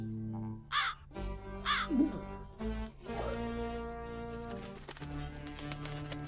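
A bird in a Hansel and Gretel audio drama, heard as loud crow-like caws and squawks over busy background music, with a flurry of harsh calls in the first half.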